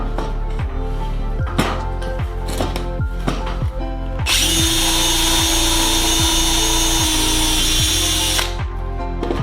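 Power drill boring the last hole in an aircraft rear spar during a Sonex kit build, with a loud close whine that holds steady for several seconds, set among a regular series of sharp clicks and knocks.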